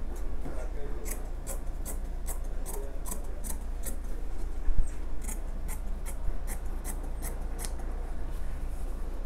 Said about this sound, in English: So this is how you cut the frame. Careful so you don't cut the chipboard.